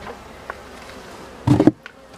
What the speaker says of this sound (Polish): nie ma sensu tych pszczółek trzymać w ten sposób, tylko zakładam normalnie ramki w ulu i niech sobie wiszą